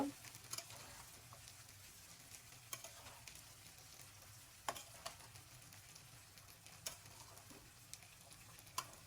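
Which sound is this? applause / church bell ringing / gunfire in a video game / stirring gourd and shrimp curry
stirring gourd and shrimp curry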